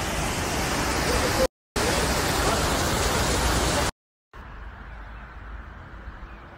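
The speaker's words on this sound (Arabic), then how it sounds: "شلالات وأنهار" Waterfalls and rivers in Bosnia roar as a dense, steady rush of water, loud and close in two bursts split by brief silent cuts, then quieter and more distant at the end.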